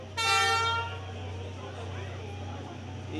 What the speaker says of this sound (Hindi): हॉर्न बज चुका है और ट्रेन आ गई है जनाब, ट्रेन आ गई है